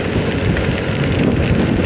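Heavy rain pours steadily during a motorcycle ride on a road used by trucks, a dense constant roar mixed with wind buffeting the microphone.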